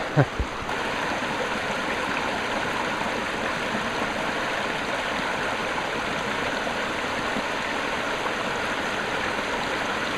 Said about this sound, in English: Look at the water coming down from these what was dead waterfalls.